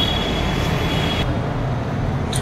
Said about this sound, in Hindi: ये देखिए गाइस, ये हम आ गए हैं करोल बाग मेट्रो स्टेशन पे।